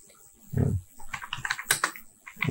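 Irregular bursts of clicks from typing on a computer keyboard, close and clear, in short uneven clusters with brief pauses and no talk.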